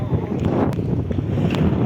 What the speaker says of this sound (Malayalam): പക്ഷേ ഇവിടെ കാറ്റ് ഭയങ്കരം